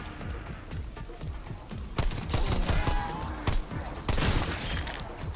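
Pistol fire in Call of Duty Zombies: several sharp, loud shots in quick bursts over busy game noise.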